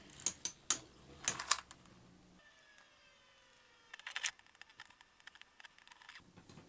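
Custom Beyblade tops, a Ho-Oh build and a Soul Phoenix, rattle and click as they launch, then settle into a thin whirring whine that slowly falls in pitch, followed by scattered light clacks of collisions.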